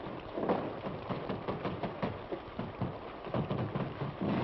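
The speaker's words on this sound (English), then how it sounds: "Holy smokes, it's raining." Steady rain patters and hisses with a soft, uneven rush and occasional heavier gusts, no voices.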